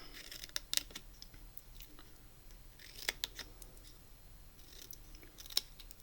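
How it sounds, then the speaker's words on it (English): Scissors snip slits into cardstock paper for a handmade K-Cup treat holder gift box, a few sharp close cuts scattered over a quiet background with no talking. "on these slits, you're going to cut up to your score mark, and then you're just going to angle cut"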